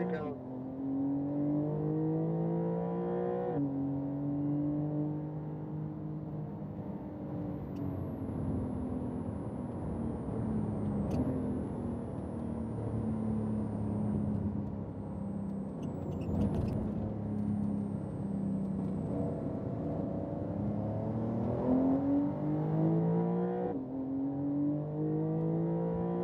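A race car engine howls at full throttle in a driving video game, with rising and falling revs across gear changes, heard steadily under a voice.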